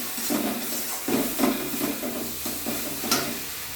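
Masala spice paste is sautéed in a pan, with a soft sizzle under repeated scraping and stirring strokes that come in uneven bursts, and one sharper clink near the end.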